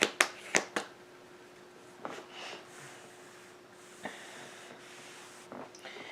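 A few crisp tarot card riffles and flicks at the start, then quieter intermittent shuffling and taps, close by with no voices.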